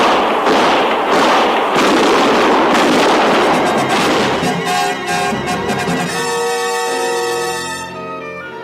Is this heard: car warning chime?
no